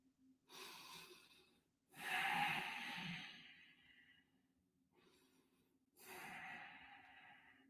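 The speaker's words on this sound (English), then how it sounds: "You see how I can hear my own breathing?" A person's own breathing in a very quiet workplace, close and soft: several slow inhales and exhales, with breathy, slightly snorting bursts separated by near-silent gaps.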